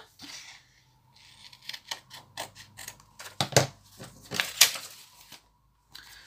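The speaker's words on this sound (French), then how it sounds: "Voilà, je coupe simplement." Scissors cutting paper for a junk journal tag: a series of short crisp snips and rustles at close range, irregularly spaced, with brief pauses and no voice.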